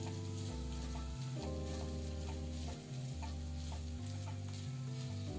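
Corn kernels fry in butter with a steady crackling sizzle and occasional stirring scrapes, heard under a continuous background melody.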